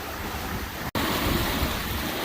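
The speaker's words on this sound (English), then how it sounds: "Still blowing 18. The big waves are not as bad." Waves and wind rush around a sailboat sailing fast in roughly 18-knot winds near Beaver Island, a loud, steady broadband roar of water and gusts with a brief dropout partway through.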